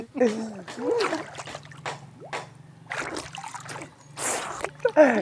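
Water splashes and sloshes as a person wades into a village pond, with several bursts of splashing and voices calling out between them.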